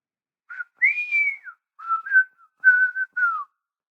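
Someone whistling a short, clear melody alone, a series of sliding and held notes with brief pauses between phrases.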